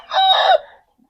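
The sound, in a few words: rooster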